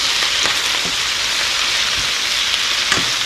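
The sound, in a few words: collard green leaves sizzling as they saute in a pan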